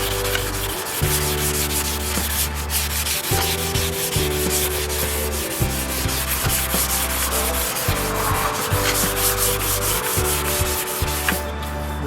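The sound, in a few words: sanding a surfboard ding repair with a shaper pad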